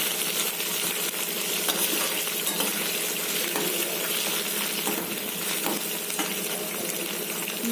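Curry leaves crackling in hot oil for mango rice, a loud, steady, spitting sizzle close up with a few light metallic clinks, no voices.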